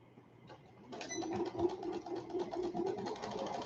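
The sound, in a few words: sewing machine stitching an elastic waist skirt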